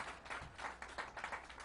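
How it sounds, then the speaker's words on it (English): An audience at a Buffalo Day of Hope and Healing gathering gives Governor Kathy Hochul a round of applause, a faint, distant patter of clapping. "let's give our great governor, Kathy Hochul, a big round of applause"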